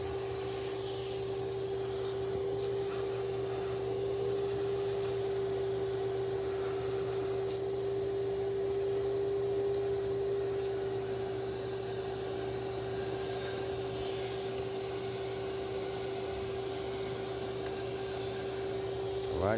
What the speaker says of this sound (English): I'm gonna continue to vacuum around these rags as I take them out